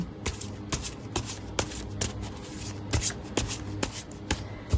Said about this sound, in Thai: อาจารย์สับ ไพ่9ครั้ง เลือกไพ่12ใบค่ะ